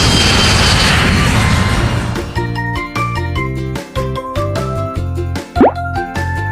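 Opening of a children's Urdu alphabet song, where a swelling, broad airplane-flyby whoosh roars for about two seconds before a bouncy backing tune takes over with a quick rising slide near the end.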